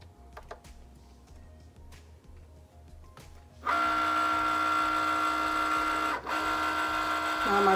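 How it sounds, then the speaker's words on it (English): A Cricut cutting machine reading registration marks and then cutting vinyl: quiet intermittent clicks and carriage movement first, then a loud steady motorized whir with a brief dip before resuming, nearby. "My Cricut machine will read it."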